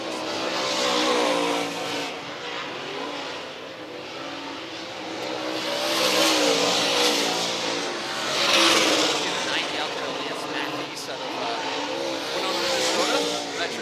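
IMCA dirt track race cars running hot laps on the high banks at Marshalltown Speedway, engines roaring and surging as they pass, loud and continuous, with an announcer talking over them.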